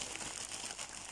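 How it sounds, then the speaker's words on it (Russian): A bubble-wrap mailer bag crinkles and rustles close up, a dense continuous plastic crackling during a parcel unboxing, with no voice over it. "Пакетик тут у нас был в пупырочку."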